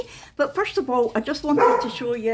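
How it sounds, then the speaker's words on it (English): Dogs barking in a home in the morning, a few sharp yaps under and between someone talking close to the microphone. "sorry about the dogs"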